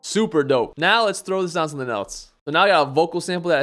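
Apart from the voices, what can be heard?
No everyday noises stand out.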